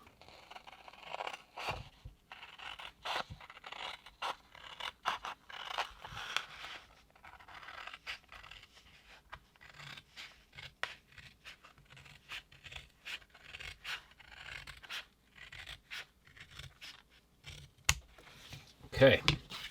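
Scissors or a blade cut through a sheet of vinyl camo gun wrap for a Ruger PC Carbine, giving a series of close, dry scraping and snipping strokes in irregular bursts, with a few sharper clicks near the end.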